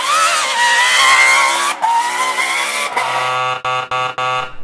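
A Peugeot rally car with a V16 engine runs in one loud, sustained, buzzy high-revving note that dips at the breaks and ends in a stuttering series of sharp cuts.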